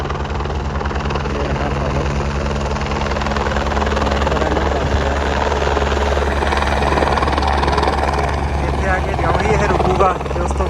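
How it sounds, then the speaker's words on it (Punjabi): A helicopter approaching to land in the mountains gives a loud, steady rotor roar with a rhythmic chop that holds throughout and stays close. People talk over the noise. "ਉਹ ਵੇਖੋ ਸਾਹਮਣੇ ਹੈਲੀਕਾਪਟਰ ਜਿਹੜਾ ਆ ਰਿਹਾ ਉਹ ਰਿਹਾ ਤੇ ਇਹ ਹੈਲੀਕਾਪਟਰ ਹੁਣ ਇੱਥੇ ਆ ਕੇ ਲੈਂਡ ਕਰ ਜਾਣਾ"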